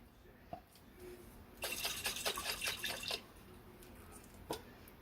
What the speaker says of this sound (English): I'm just going to put a little bit of water in here just to get that gravy out